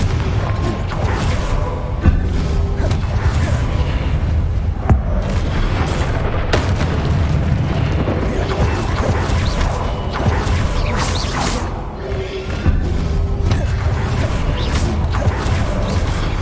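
Spells Confringo and Incendio cast in Hogwarts Legacy, heard as a dense, continuous wash of booming blasts, crackling impacts and whooshing effects with no quiet gaps, loud throughout.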